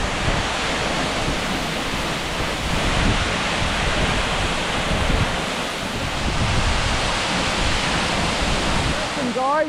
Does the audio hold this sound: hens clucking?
no